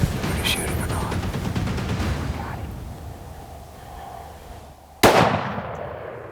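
A single sharp hunting rifle shot cracks out loud and close during an African safari hunt, after a stretch of quiet outdoor rustle, with its report decaying afterward.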